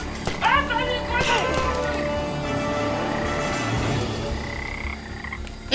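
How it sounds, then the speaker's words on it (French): A frog croaks in the LEGO Jurassic World video game, a series of clicking, rattling croaks with bright game effects, while a voice talks excitedly over it. "Mais une grenouille! Grenouille! Grenouille!"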